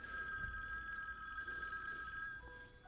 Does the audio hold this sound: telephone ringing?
yes